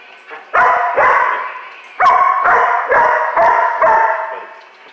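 A young puppy barks in a series of six loud, close, sharp barks, spaced roughly half a second to a second apart, with brief quiet gaps and no talking over them.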